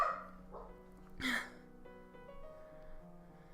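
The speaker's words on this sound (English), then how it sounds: "Yep, the dog is barking." A dog in the video game Long Live The Queen gives a single short bark, heard quietly over soft sustained background music.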